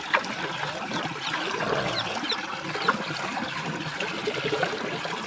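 Water is poured out in a steady trickling splash that runs on for about five seconds in an outdoor village setting, with no one talking.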